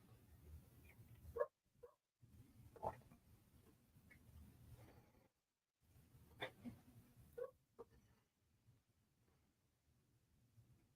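Dogs bark outdoors in front of a house, a few separate woofs spread out over several seconds, moderately distant and fairly faint against quiet background rumble.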